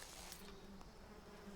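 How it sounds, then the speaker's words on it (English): Bees in the video game Metal Gear Solid 3 Delta, a dense, continuous buzzing swarm close by, steady for about a second and a half with no talk. "Bees."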